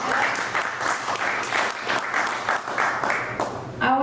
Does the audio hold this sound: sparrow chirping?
no